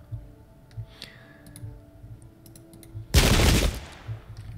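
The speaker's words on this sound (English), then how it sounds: "Fire a point blank range type of shot" Musket volley fired at point-blank range in the video game Pike and Shot: a sharp, dense burst of crackling gunfire erupting suddenly and lasting about a second, preceded by faint scattered clicks and soft thuds.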